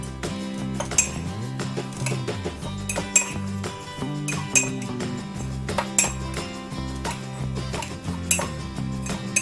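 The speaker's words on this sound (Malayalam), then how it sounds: "നമുക്കൊരു ഫോർക്ക് വെച്ചിട്ട് ഒന്ന് മിക്സ് ചെയ്ത് കൊടുക്കാം." A fork mixes dry ingredients for an eggless microwave mug cake in a mug, giving repeated light clinks and taps against the sides, set under steady background music.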